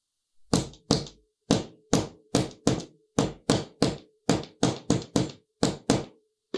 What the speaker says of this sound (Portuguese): Um finalizador de zíper aqui, ó. Aí aqui você martela